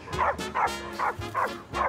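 A dog gives five rapid, close barks in a steady rhythm, loud and sharp, with no voices over them.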